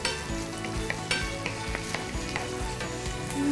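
Chopped onion sizzles steadily in a hot pan while being stirred, with occasional clinks and scrapes of a utensil against the cookware, close and continuous throughout.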